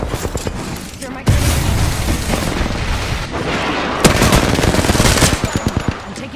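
Loud, dense automatic gunfire in the Apex Legends battle royale game, with rapid bursts and heavy impacts continuing throughout, sharp distinct shots near the end, and a voice faintly present underneath.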